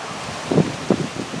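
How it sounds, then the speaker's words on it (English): Gusty south wind on a windy spring day rushes steadily past, with a couple of brief louder buffets rising over the broad, constant roar. "Wind really blowing in hard from the south."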